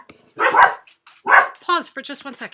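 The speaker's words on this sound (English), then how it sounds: "Just had to get the dogs away from the door. They were barking." A couple of house dogs give a few short, close barks at a door, while a person talks over them.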